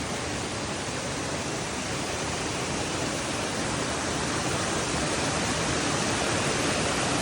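A constant, dense roar of falling water fills everything evenly, close and loud, with no pauses or other sounds cutting through.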